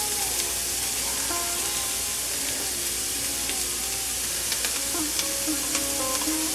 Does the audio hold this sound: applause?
no